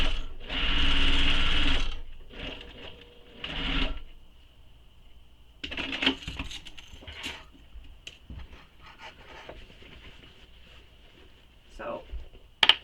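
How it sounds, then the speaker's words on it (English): A sewing machine makes a short, close run of back stitching over a key minder on a small messenger bag, then a second brief burst, with someone talking between and after the runs. "so I'm just back stitching over it"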